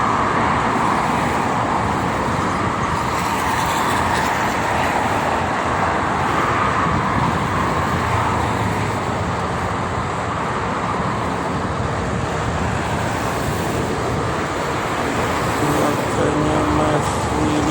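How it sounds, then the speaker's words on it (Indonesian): Steady roar of heavy truck traffic on the Cikampek toll road in both directions, a continuous dense rumble of engines and tyres with wind noise, fairly loud and unbroken throughout. "Jakarta maupun arah Cikampek ramai sama truk."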